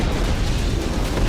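An Israeli Merkava tank blows up in a loud, dense, roaring blast, a continuous heavy rumble that fills the whole short moment without letting up.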